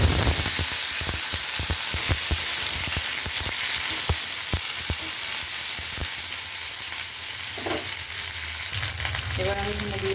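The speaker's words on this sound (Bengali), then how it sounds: "এবার আমি এখানে ছেড়ে দেবো রসুন আর কাঁচা লঙ্কা" Garlic, green chilli and vegetables fry in hot oil with a steady, loud crackling sizzle. Utensil knocks and stirring scrapes repeat through it.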